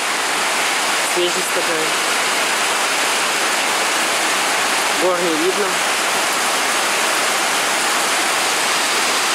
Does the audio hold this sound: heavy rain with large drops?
yes